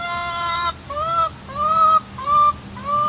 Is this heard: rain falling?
no